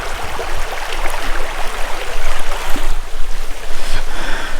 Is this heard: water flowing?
yes